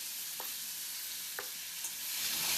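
Chopped onions for poha sizzling in hot oil in a frying pan, a steady hiss with a few soft stirring knocks, close up and alone.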